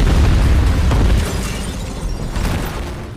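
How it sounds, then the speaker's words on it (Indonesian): A loud, booming explosion from the action film The Mechanic, a heavy low rumble that is strongest in the first second, then decays into a lingering roar with crackling debris. "Ternyata Bishop selamat dari ledakan tadi."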